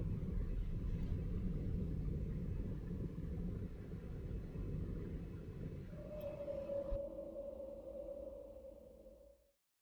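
Deep, steady rumble of an approaching storm in a desert-set visual novel game, loud and continuous, with a sustained low tone swelling in near the end before the sound fades out.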